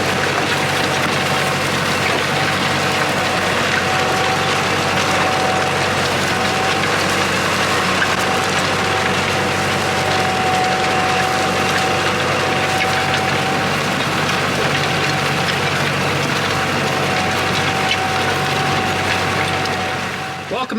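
Farm tractor discing a field in spring, a loud steady engine drone with a constant low hum and mechanical rattle running unbroken throughout.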